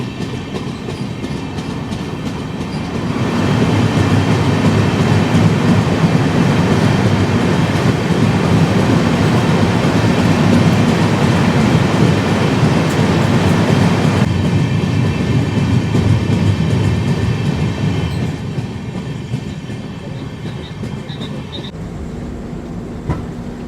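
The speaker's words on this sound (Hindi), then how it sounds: "वहीं पे अभी अपनी राजधानी एक्सप्रेस पहुंच चुकी है।" Rajdhani Express train running at night through hilly country near the Jamalpur railway tunnel in Bihar, a loud steady rumble with clickety-clack of wheels building in after a few seconds, sustained throughout, then easing near the end.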